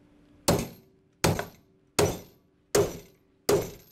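A hammer strikes the steel plates of a Flexco SR rivet hinged fastener five times in an even, slow rhythm, each blow a sharp, ringing metallic clank that fades quickly before the next.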